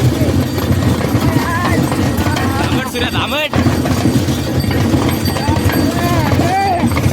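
Bullock cart hooves clip-clop steadily on a village road, half-buried in a loud, constant background rumble, while people talk throughout.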